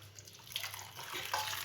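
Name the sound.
hot water being poured in for cleaning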